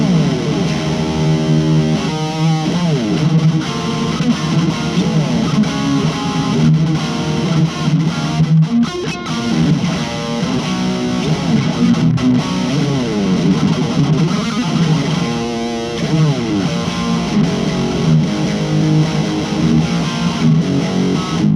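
Distorted electric guitar run through a VOX Nutube pedal plays chugging, palm-muted riffs with heavy saturation, loud and continuous throughout with no voices.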